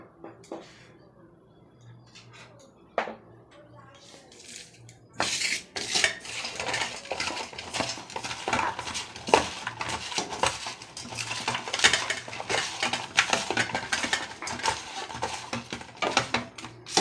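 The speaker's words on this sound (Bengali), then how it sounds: "বেসন ফাটিয়ে নেবো ভালো করে এবার" Gram flour batter with cumin, chili, turmeric, salt and a little rice flour gets whisked in a bowl, starting with a few sparse clinks before turning into continuous rapid scraping and tapping of utensil against the bowl.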